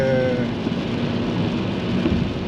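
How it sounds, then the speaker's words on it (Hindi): Heavy stormy rain pours steadily with a dense, continuous roar and a low rumble of thunder beneath it, loud and unbroken throughout. "आप देख सकते हैं कि ज़बरदस्त तरीके से बारिश जारी है, तूफ़ानी बारिश हो रही है।"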